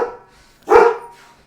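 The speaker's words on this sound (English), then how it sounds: "It's my dog." A pet dog gives a single sharp, loud bark close by in a quiet room, preceded by a faint earlier sound and fading out after.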